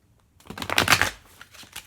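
Tarot cards are shuffled by hand at a table: a loud riffle burst of papery flicks peaking in the middle, followed by softer scattered card slaps, close by and with no talk.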